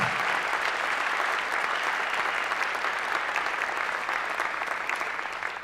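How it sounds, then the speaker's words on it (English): A crowd at an outdoor religious freedom rally gives sustained, loud applause, an even wash of clapping that holds steady from start to finish. "Can we give Alliance Defending Freedom a round of applause?"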